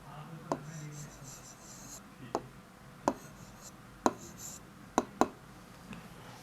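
Handwriting on paper while writing an Urdu lesson, scattered light scratches and about six sharp pen taps spaced irregularly, close and soft, with someone speaking quietly at times.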